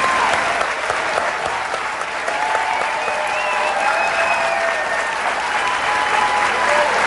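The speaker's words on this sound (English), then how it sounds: "Let's give both of our candidates a warm round of applause." Audience applause for the two candidates at an Iowa governor debate, a loud, steady wash of many hands clapping that fills the whole stretch without letup.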